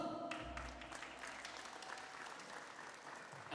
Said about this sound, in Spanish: Que se escuchen los aplausos.